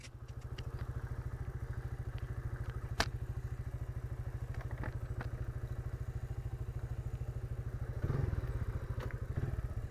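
TMX motorcycle engine idling nearby with a steady, rapid putter and a little clatter, growing slightly louder and rougher near the end.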